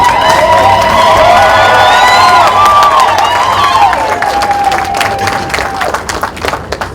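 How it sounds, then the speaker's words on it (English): A town hall audience in Boston stands and applauds and cheers for Bobi Wine, loud and sustained throughout, with shouts and whistles over dense clapping that thins toward the end, while a musical tone sounds behind it. "stand up and give him a round of applause"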